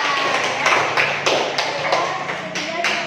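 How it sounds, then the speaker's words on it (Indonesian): A small audience applauds a student group after its presentation with loud, sharp claps in a slow, fairly regular beat, roughly two per second, over a steady room murmur. "kasih tepuk tangan untuk kelompok kita"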